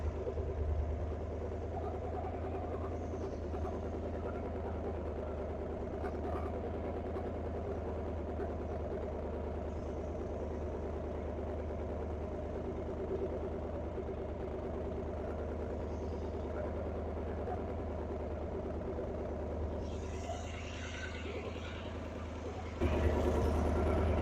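A 1957 Ford Thunderbird, parked for almost 60 years and running with a fuel leak, idles in a steady, close, low rumble that carries unbroken, with a brief louder bump near the end.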